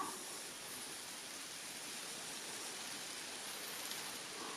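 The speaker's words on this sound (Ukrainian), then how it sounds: "Як бачимо, йде дощ" Steady rain falls outdoors as a constant, even hiss of drops with no breaks, moderately loud, with no talk.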